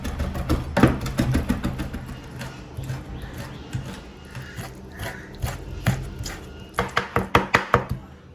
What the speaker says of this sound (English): these tentacles, we are going to wash them and we are going to chop them very fine like mince